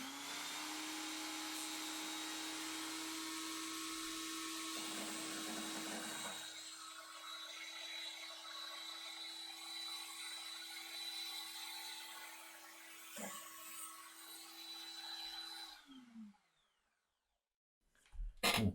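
A mini bench saw's electric motor whines steadily at close range, its pitch shifting partway through as a strip is cut, before the motor winds down near the end and a couple of clunks follow.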